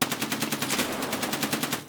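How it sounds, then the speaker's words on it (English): Rapid automatic gunfire in a first-person shooter game, one loud, close, continuous burst of evenly spaced shots lasting about two seconds. "I just shot one in the back of the head."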